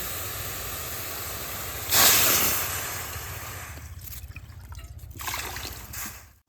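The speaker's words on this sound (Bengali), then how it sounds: "হাফ বাটি চিনির জন্য দেড় বাটি জল দিয়ে দেব" Water poured into sugar in a hot pan for syrup gives a sudden loud hissing burst that fades into a steady steamy simmer and trickle, with a second softer surge near the end.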